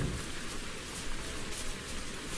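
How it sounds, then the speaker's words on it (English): Steady rain in the fishing video game Ultimate Fishing Simulator, a constant even hiss of falling drops by a bridge with no talking, level and unbroken throughout. "it is raining"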